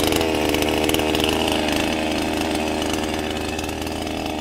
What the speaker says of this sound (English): So let's go to something like a chainsaw.